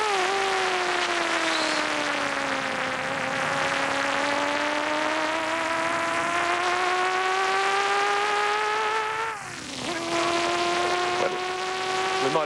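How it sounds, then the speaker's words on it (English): A touring car at the 1982 Bathurst race roars loudly and steadily with a high, whining engine note, dips briefly at a gear change, then carries on at full pitch. "The car we just saw him pass was in fact the Warren Cullen entry with Gary Cook now at the wheel"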